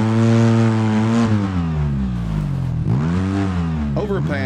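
Vehicle engine in the driving game Overpass on PS5, a loud continuous drone whose pitch rises and falls as the vehicle accelerates and eases off, close and steady throughout.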